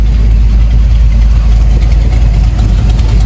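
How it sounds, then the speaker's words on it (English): A truck's engine idles steadily in a shop parking lot, a loud, continuous low rumble with no revving and no voices over it. "I'm actually going to get to drive around the parking lot in my truck."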